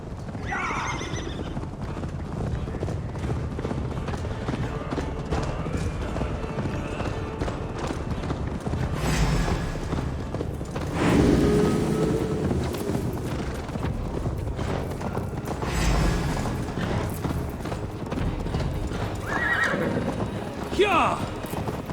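A horse in the game Assassin's Creed Valhalla gallops steadily with loud hoofbeats through the whole stretch, neighing several times over the pounding. Dense game sound and voices run alongside the gallop.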